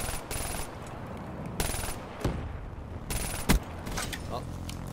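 Black Ops 3 gunfire in several short, sharp bursts separated by gaps, with a louder single crack near the end and a low background hum throughout.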